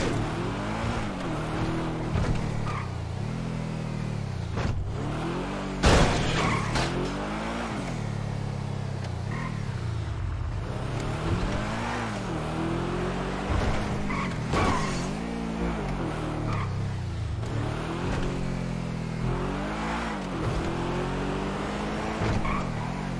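A car in the GTA V game drives at high speed, its engine revving up and down in repeated sweeping surges with tyre skids and screeches, loud and continuous with no talking.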